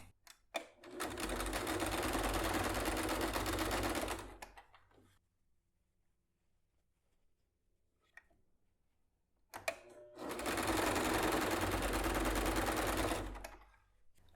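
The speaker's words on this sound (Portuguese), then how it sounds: "Agora a gente já pode costurar todas as pregas da bolsa" A sewing machine stitches the pleats of a bag lining, running in two loud sustained bursts of rapid stitching separated by a quiet pause with faint handling clicks.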